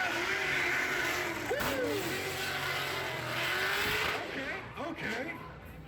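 A supercharged LS-engined drift car squeals its tires and roars through a slide at a SEMA 2021 Hoonigan drifting event, loud and continuous with revving engine, while a spectator whoops.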